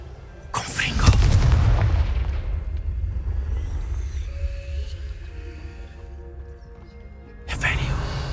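Two heavy Confringo spell blasts boom in the Hogwarts Legacy video game, a deep explosion near the start that rumbles and fades, then a second sharp burst near the end, with quieter game ambience between.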